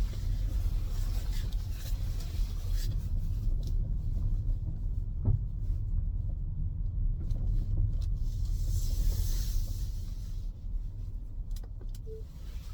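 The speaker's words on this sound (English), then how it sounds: "Let's do a U-turn right here." A car, driven on a shopping run to Fort Lupton Safeway, makes a U-turn in a strip: a low, steady engine and road rumble inside the cabin that eases off near the end, with no talk.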